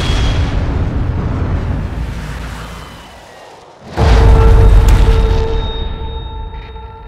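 Heavy explosions from an artillery strike called in on a position in a Vietnam War film, a loud rumbling roar that fades, then a sudden huge boom at about four seconds followed by sustained thunderous rumble.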